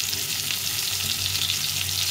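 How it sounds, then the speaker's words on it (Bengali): Spiced pointed gourd (potol) slices shallow-frying in a little oil, a steady close hiss of sizzling with faint crackles and no talking. "আর একদিকে হলে আরেকদিকে উল্টে পাল্টে ভেজে নিতে হবে।"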